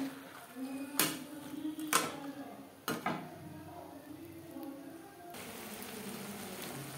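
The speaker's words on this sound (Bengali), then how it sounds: "মশলার সাথে বাঁধাকপি বেশ ভালো করে মিক্সড করে দেবো।" Spatula stirring cabbage with spices in a pan, three or four sharp scraping knocks against the metal spaced about a second apart, followed by a soft steady sizzle.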